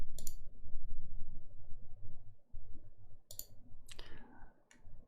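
A computer mouse clicks on a button in a web console: a few sharp, quick clicks spaced over several seconds, close, over a low background rumble.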